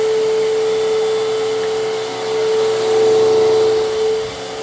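A 2000 Fantom Fury LE upright vacuum cleaner runs steadily and loudly throughout, its motor whine holding a constant pitch with slight swells in loudness, close and alone with no talking.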